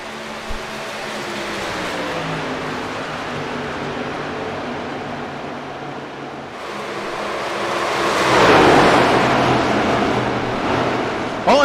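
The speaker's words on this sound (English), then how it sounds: "The sound, obviously, these trucks way different than they used to be." Racing trucks roar around the track in an engine drone that swells as they pass near, rising to a louder, rushing peak before easing off.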